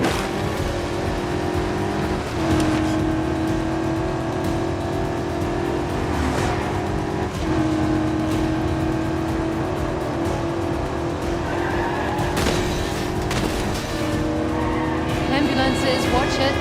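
Engine roar and tire squeal from a car chase in the video game 007 First Light, revving and skidding continuously under game dialogue, loud and dense throughout.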